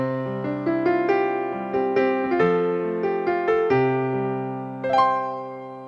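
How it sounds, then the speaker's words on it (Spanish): A piano plays a short melodic phrase of several notes with chords beneath, ending on a final struck chord that rings out. "¡Un piano!"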